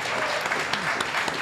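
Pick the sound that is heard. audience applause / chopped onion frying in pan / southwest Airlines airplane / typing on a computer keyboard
audience applause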